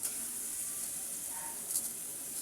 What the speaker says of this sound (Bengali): এখন আমি কেটে ধুয়ে রাখা কয়েক পিস শোল মাছ দিয়ে দেব।